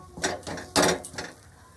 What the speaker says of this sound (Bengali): ছাতুটাকে দিয়ে আমি খুব ভালোভাবে কড়াইশুটির পুরের সঙ্গে মিশিয়ে দেব